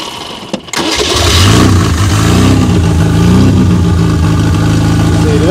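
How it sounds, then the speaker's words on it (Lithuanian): A Moskvich 412 car engine cranks, catches and settles into a loud, steady close-range running note with slight revving rises, and no voices are heard. "tada šiaip labai švariai variklis dirba"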